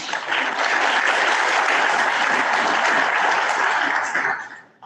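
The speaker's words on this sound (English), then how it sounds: "Let's give them a round of applause." Luncheon audience breaking into a round of applause for an event sponsor, dense even clapping from a roomful of people at moderate distance, holding steady before tapering off at the end.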